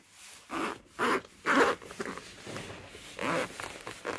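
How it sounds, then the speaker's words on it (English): Metal zip on a pen case for Colorya nylon brush pens being drawn open in a few short rasping pulls, close and clear, with softer handling rustle between them and no talk. "It's got a metal zip"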